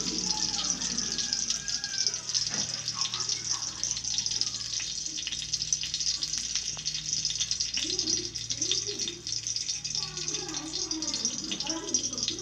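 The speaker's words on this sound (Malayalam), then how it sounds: "ഇതിലോട്ട് കാഷ് ഇട്ട് നന്നായി റോസ്റ്റ് ചെയ്തെടുക്കുക" Cashews roast in hot ghee in a pan for semiya kesari, a steady crackling sizzle with occasional stirring scrapes throughout, while a voice talks over it.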